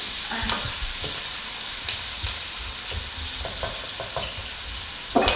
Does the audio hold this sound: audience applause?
no